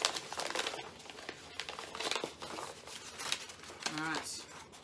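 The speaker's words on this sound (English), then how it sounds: "Ooh, it's unscrolling. My scroll is unscrolling." A paper scroll unrolls with close, crinkling and rustling sounds in short bursts during a children's craft activity, while a voice speaks nearby.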